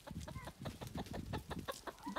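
Chickens cluck and chatter steadily in a village yard, several birds close by in an overlapping, busy stream of short calls.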